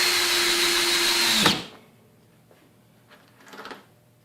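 A Ryobi 18V One Plus cordless drill drives a screw with a loud, steady high whine that stops abruptly after about a second and a half, followed by a few faint handling clicks and rustles.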